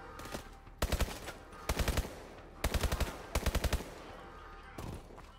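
Automatic weapon fire in the video game Call of Duty: Advanced Warfare comes in four or five short, rapid bursts of loud shots, separated by brief gaps, with no speech during the firing.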